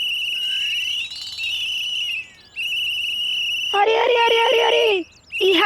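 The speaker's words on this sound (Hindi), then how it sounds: "सीटी की आवाज में खराटे काहे ले रहा है?" A loud, steady whistle tone runs in long blasts with short breaks, passed off as snoring but really a traffic police whistle, ending in a harsher burst near the close.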